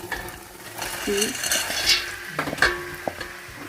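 Fried rice with green peas, curry powder, thyme and seasoning stirred in a pan: a faint sizzle under scraping spoon strokes and a few light metallic clinks against the pan.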